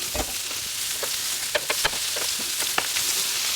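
Thin-sliced dry-aged ribeye cooks in a hot pan for a cheesesteak wrap: a close, steady sizzle with a few quick clicks and scrapes from a utensil.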